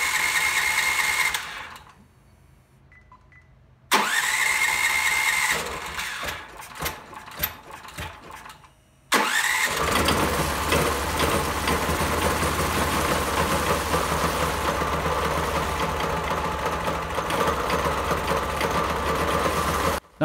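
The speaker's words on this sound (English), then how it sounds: "I'm gonna have to hand throttle the engine" A 420 cc Predator gasoline engine, newly fitted with EFI and hand-throttled, sputters and catches after a few short mechanical bursts, then runs loudly and steadily with a rough, rattling idle.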